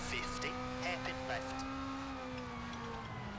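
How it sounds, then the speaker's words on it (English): Rally car on winter tyres in the EA WRC racing game, rubber scrubbing and sliding across the surface over a steady engine note, with a few sharp skittering bursts early on and a commentator talking throughout. "The winter tyres, sorry, just scrubbing along the surface."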